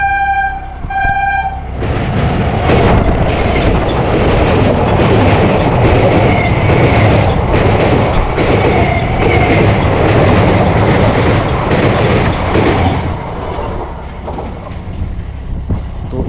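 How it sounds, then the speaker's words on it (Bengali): A Sealdah–Diamond Harbour local train sounds a short double horn, then thunders past at night with loud, rhythmic wheel clatter before fading slightly. "এখন Sealdah two diamond Harbour local আসছে"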